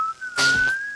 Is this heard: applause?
no